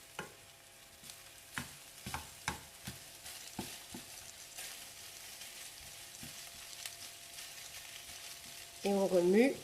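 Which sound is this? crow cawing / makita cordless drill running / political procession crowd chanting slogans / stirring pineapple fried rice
stirring pineapple fried rice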